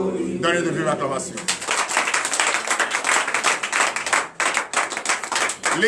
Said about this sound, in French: Donnez de vive acclamation